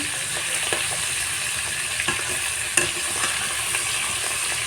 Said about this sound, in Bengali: এইভাবে এক এক করে আমি সবগুলো মাছ ভেজে নেব